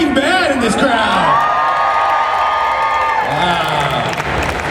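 A large fan convention crowd at a Breaking Bad panel erupts in loud cheering, whoops and applause, sustained for several seconds with high shouts over the roar.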